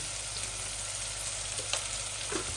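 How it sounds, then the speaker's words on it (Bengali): Onion fries in hot oil for a tomato khatta, a steady dense sizzle, close and continuous, with a few faint stirring clicks. "আমার অনিয়নটা ভাজা ভাজা হোক"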